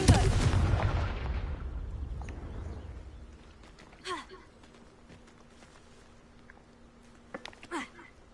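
A Confringo blasting spell fires in Hogwarts Legacy with a loud opening boom that rumbles and fades over a few seconds, followed by faint magical chimes and small impacts.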